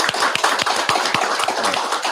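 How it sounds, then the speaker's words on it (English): A church congregation applauds the fathers, with a brief burst of quick, overlapping hand claps from a modest group, close and fairly loud. "So we'll give a round of applause for the fathers."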